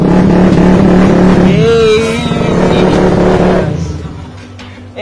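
Suzuki Raider Fi motorcycle engine catching on a remote starter and settling into a loud, steady idle close by, with a brief rising rev in the middle and someone talking over it.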